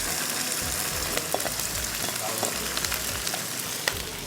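Boiled rice being sautéed with Chinese sausages and soy sauce, a steady close sizzle and frying hiss with a few light stirring scrapes and no talk.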